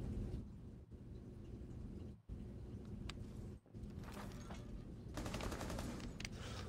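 Gunfire in the tactical shooter game Rainbow Six Siege during a ranked match: dense, continuous bursts of shots with brief dropouts, ending in a sharper, louder volley.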